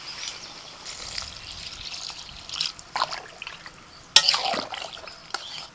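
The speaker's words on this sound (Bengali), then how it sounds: "জল দিয়ে দিচ্ছি।" Water is poured into a pan of potato, soybean and ridge gourd curry during cooking, a steady trickling splash with brief louder bursts and no talking.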